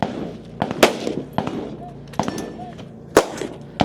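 Rifle shots at a regional shooting competition stage, a handful of sharp cracks spaced irregularly over a few seconds, close and loud, with an announcer talking between them.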